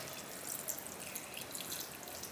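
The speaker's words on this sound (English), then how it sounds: "So you pour in 500 milliliters of water." Water poured into a Shin Kpop Ramyun cup, 500 ml, a steady faint trickling splash heard close up with no talking.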